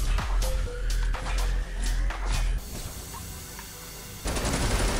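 Sustained automatic gunfire from a Fortnite match, with loud, rapid bursts for about two and a half seconds, then a quieter stretch and a final sharp hissing burst near the end.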